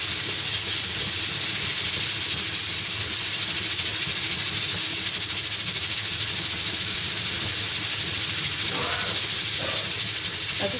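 Soaked rice going into cooked onions in a pot, a loud, constant hissing sizzle that holds steady the whole time, with a couple of faint clinks near the end.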